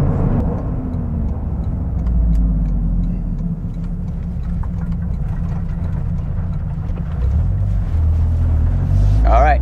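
2023 Toyota GR Corolla Morizo engine driven hard, a loud low rumbling drone that dips briefly and climbs again, ending with a rising rev sweep; heard from inside the car, with possible talk underneath.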